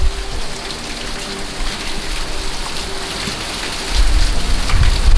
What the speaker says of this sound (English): we're starting to get 35 mile an hour gust, I'd say